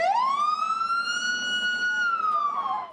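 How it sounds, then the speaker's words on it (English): Police car siren sounding in a parking lot during a canine traffic stop drill, a loud, close, sustained wail that rises at the start, holds steady and dips slightly at the end. "Sirens sounded in the parking lot as officers were taking their canine ollie through a traffic stop drill."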